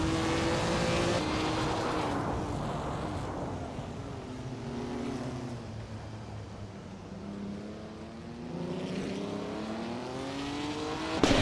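Classic cars race on a street circuit in a racing video game, engines droning and revving steadily with rising and falling pitch as they accelerate and shift, moderately loud throughout with no talk.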